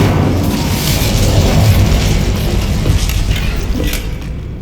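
The Incendio fire spell cast in the video game Hogwarts Legacy, a heavy, rumbling whoosh-boom of flame that swells near the start and slowly fades over several seconds.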